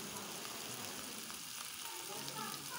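Vegetables including potatoes, beans and tomato fry in a pan with a quiet, steady sizzle and light crackle, close by, with no clear speech.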